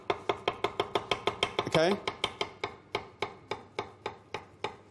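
Rapid, steady knife taps chopping a yellow pepper on a board, about four per second, close and crisp, with a brief voice breaking in midway.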